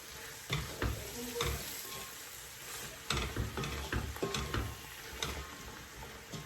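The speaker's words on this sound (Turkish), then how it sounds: "mercimeklerimi de ekledim. Şöyle birbirini bulana kadar" Lentils are stirred into a pot of Moroccan harira soup, with a spoon scraping and knocking in uneven strokes over a gentle sizzle; close and quiet, without speech.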